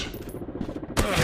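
Gunfire in a PUBG-style first-person shooter game: rapid, evenly spaced shots in a steady burst, ending in a sudden louder, fuller blast, with no voice.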